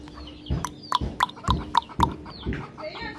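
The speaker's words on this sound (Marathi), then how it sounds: "आज आमच्या कोंबडीमध्ये मस्त पिल्लं दिलीत" A hen with chicks only a few days old clucks in a series of short, close, rhythmic calls, with faint peeping in the background on a farm.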